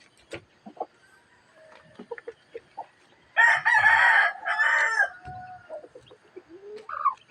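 A rooster crows loudly and close by with a full cock-a-doodle-doo, surrounded by scattered clucks and chirps from hens and chicks on a backyard flock, with no talking.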